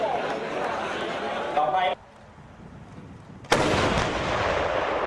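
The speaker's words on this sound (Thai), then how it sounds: "เป็นรถฐานยิงที่ใช้ทดสอบจรวดหลายลำกล้อง" A multiple rocket launcher firing vehicle is test-fired at a military range in Lopburi, Thailand, giving loud, sustained broadband roaring blasts in two long bursts separated by a short, quieter lull.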